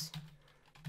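Computer keyboard typing, a few soft keystrokes with an irregular rhythm, faint and close in a quiet room.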